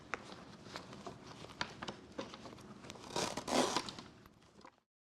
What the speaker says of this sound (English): there's a zipper in the back, and we zip up the zipper